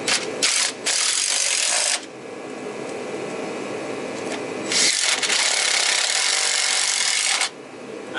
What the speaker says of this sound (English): And you just put these self-tapping screws in.